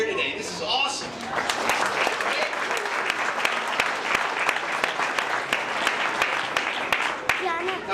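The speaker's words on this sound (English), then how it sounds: "How about a big round of applause for everybody that's here today?" A crowd at a veterans' welcome-home celebration breaks into a sustained round of applause, dense and continuous for several seconds, with a voice talking over the start.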